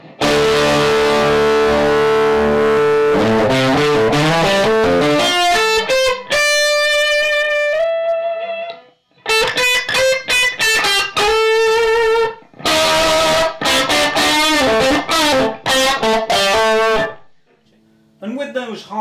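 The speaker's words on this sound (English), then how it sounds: "this is the booster overdrive" An electric guitar through a Fulltone GT500 FET booster overdrive pedal, highs rolled back for a bluesy tone, plays loud sustained chords and ringing single notes in phrases separated by short pauses.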